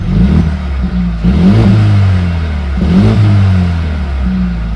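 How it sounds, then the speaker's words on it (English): A Mercedes-AMG CLA 35 engine growls through large exhaust pipes, loud and close, with two rising revs over a deep steady rumble. "this thing just sounds amazing thanks to these large exhaust pipes out here"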